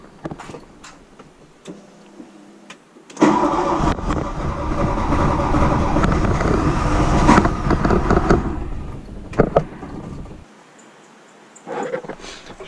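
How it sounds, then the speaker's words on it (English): A starter cranks the 1.8T 20-valve engine swapped into a 1975 VW Rabbit, a loud strained whir lasting several seconds before stopping, with quieter clicks and tapping around it. "I don't think the starter's real happy."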